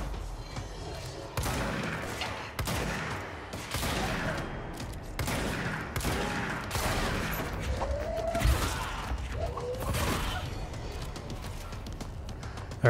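Shotgun blasts from the video game Control boom in a series of sharp, heavy shots spaced about a second apart, with rumbling impacts and scattered combat effects between them.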